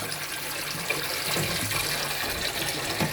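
Water pours steadily into a pool filter tank, a continuous rushing, hissing flow heard close and alone throughout.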